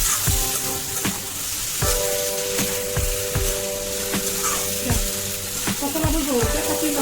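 Raw banana stem, mashed and mixed, fries and is stirred in a hot pan, a steady close sizzle broken by repeated clacks and scrapes of a spatula at irregular intervals, with no talk.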